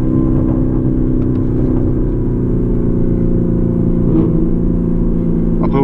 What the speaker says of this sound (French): je pense que tu entends le V10 de la Huracan Performante qui est devant